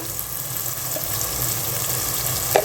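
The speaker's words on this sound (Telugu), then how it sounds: "4 పచ్చిమిర్చి, ఇవి కూడా ఫ్రై చేసుకుందామండి టమాటా మగ్గే వరకు" Green chillies and ginger paste fry in hot oil alongside tomatoes, giving a close, steady sizzle with light bubbling and a small stirring clink near the end.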